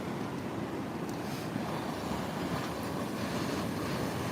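Sea waves wash on a foggy, misty shore as a steady, broad roar with wind buffeting the microphone, constant and unbroken throughout, with no voices.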